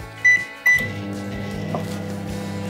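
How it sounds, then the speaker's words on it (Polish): A microwave oven with an egg inside gives two short beeps, then its motor starts and settles into a steady, near electric hum. "Ponoć wystarczy na takie 5-6 minut wsadzić to jajko do mikrofali"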